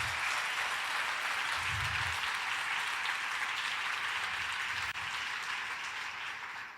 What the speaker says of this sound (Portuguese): Então dá um forte aplauso a Jesus.